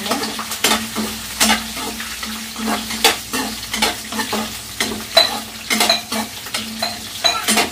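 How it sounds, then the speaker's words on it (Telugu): Green chillies and ginger are lightly fried for chutney, a close sizzle broken by a steady rhythm of sharp spatula strokes scraping and tapping the pan, repeating about twice a second. "లైట్గా ఫ్రై అయ్యేంత వరకు అయితే ఫ్రై చేసుకోవాలి"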